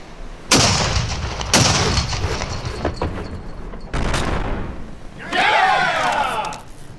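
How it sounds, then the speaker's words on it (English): A sailing ship's deck cannons fire chain shot in several heavy booming blasts spaced a second or so apart, followed by crashing debris and a cheering crew. "Gun deck, prepare to fire chain shot cannon only."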